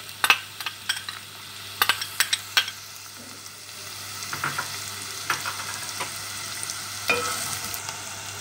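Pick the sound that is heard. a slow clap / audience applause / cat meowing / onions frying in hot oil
onions frying in hot oil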